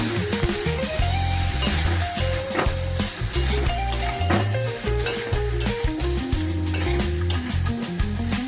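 Boiled chickpeas and potatoes sautéed with spices in a pan, continuous sizzling under repeated scraping stirs, close and fairly loud, with music playing throughout.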